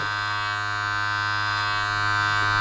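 Cheap Chinese electric hair clippers cutting hair, giving off a loud, continuous close-up buzz with a steady hum and no pauses, with no voices.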